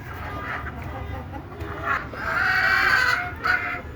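Free-range desi chickens clucking and calling close by, with a drawn-out crowing call swelling in the middle over a low background hum.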